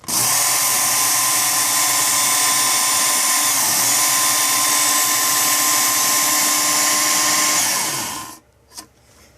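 A Work Sharp Ken Onion belt sharpener running a 120 or 180 grit belt grinds along a knife blade during reprofiling: a steady, loud, high whining rasp for about eight seconds that cuts off abruptly, leaving a brief faint knock.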